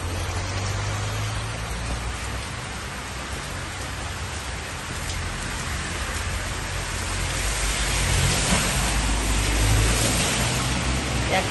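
Heavy rain falls in a dense, continuous wash with a faint low hum underneath, growing louder toward the end.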